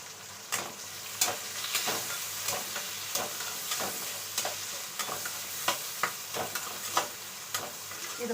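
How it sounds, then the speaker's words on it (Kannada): Green chillies and onion frying in a pan, a loud continuous sizzle cut by regular scraping stirs roughly every half second to second, close and without talk. "ಇದು ಫ್ರೈ ಆಗೋ ತನಕ ಬಿಡಬೇಕು"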